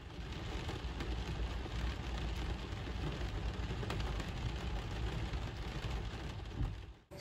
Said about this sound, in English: It's pouring rain here in Barrie